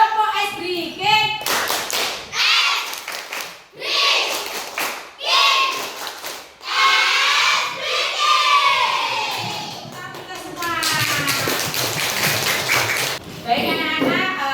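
Classroom of schoolchildren doing a tepuk ice breaking clapping chant, bursts of rhythmic group clapping alternating with loud sung and shouted chanting voices, the pattern repeating in phrases.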